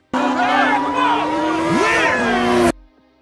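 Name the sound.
cars racing in a street race, from a film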